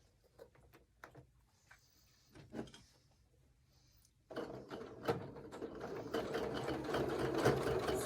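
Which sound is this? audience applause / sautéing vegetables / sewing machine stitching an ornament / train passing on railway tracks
sewing machine stitching an ornament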